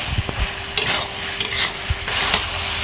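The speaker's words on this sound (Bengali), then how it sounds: "লাল লঙ্কার গুঁড়ো দিয়ে আবারও হালকা একটু নেড়ে চেড়ে নিয়ে চাপা দিয়ে দিয়ে রান্না করে নেব" Potatoes with red chili powder are stirred in a sizzling pan, a steady frying hiss broken by a few scraping strokes of the spoon.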